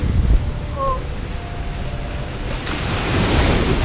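Ocean surf on Mirissa Beach, Sri Lanka, a steady rushing wash of waves with wind buffeting the microphone, growing slightly louder toward the end.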